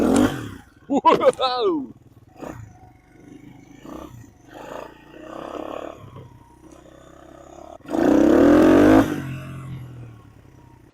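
A Honda XR120 pit bike with a slight intake leak is kicked over and fires, giving a brief rough engine roar and a rev near the end, with a loud exclamation at the start and talking throughout.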